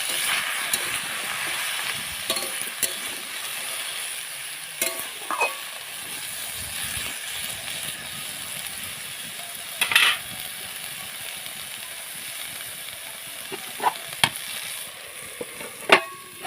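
Cauliflower, potato and beans frying and being stirred in a pan: a continuous close hiss of sizzling oil with scattered clicks and scrapes of a utensil, brief sharp knocks near the end.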